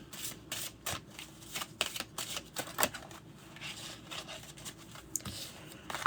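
Playing cards riffled and handled during a live card reading, giving soft papery flutters and brief slaps in quick bursts, close and fairly quiet.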